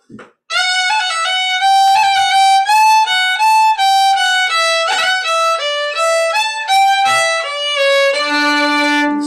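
A solo wind instrument holds a long F and a long G, then runs through a quick arpeggio and a scale, ending on a lower sustained tone.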